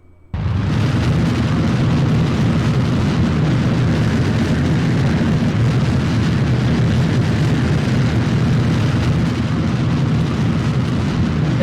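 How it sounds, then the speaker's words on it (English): Rocket engines ignite at liftoff in Kerbal Space Program and then roar without a break, a loud, dense, rumbling blast that starts abruptly and holds steady with no voices. "And we have a liftoff."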